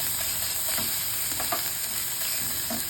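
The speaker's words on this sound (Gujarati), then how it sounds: "આ ખાંડેલો મસાલો આપણે ઉમેરી દેવાનો છે અને ધીમા તાપે આપણે તેને સારી રીતે મિક્સ કરી લઈશું।" Ground masala spice being stirred in a pan over a low flame for khatto lot, a steady low sizzle with scattered spoon scrapes, close and without speech.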